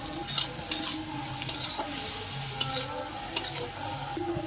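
Prawns fry and sizzle in a hot pan with garlic, dried chilli, sugar and turmeric, while a utensil stirs and scrapes with occasional small clicks; a steady close sizzle throughout, no voices.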